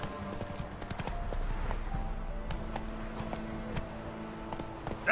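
Roach the horse trotting in The Witcher 3, a steady run of clip-clop hoofbeats at moderate volume, repeating rhythmically alongside faint background game ambience.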